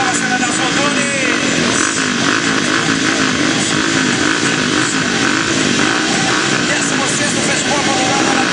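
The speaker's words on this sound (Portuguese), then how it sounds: "vamos acelerar os motores aí, vamos ouvir, vamos acelerar os motores" Several motocross motorcycles revving at a race event, their engines blending into a dense, loud, continuous roar with wavering pitch, while a voice talks over it throughout.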